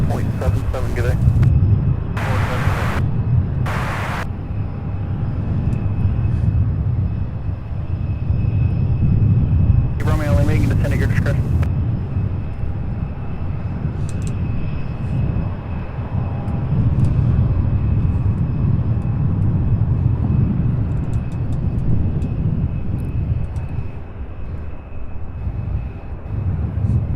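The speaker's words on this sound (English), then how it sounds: "That Boeing 737 there heading to Atlanta" Boeing 737 airliner on a flight to Atlanta, a steady engine roar with a few sharp clicks and bursts early on, while voices talk over it.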